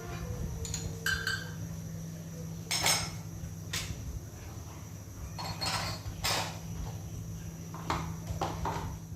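Dishes being washed by hand, with scattered clinks and clatters of plates and utensils coming in short bursts over a low steady hum.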